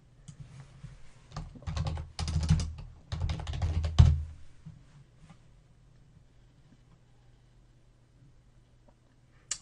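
A computer keyboard typed in quick bursts for a few seconds, close and clear, entering a username and password, then going quiet.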